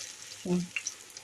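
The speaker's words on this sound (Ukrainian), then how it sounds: "хай смажеться" Potato pancakes (deruny) frying in a pan, a soft steady sizzle running throughout with a brief louder burst of spatter near the middle as they settle after being flipped.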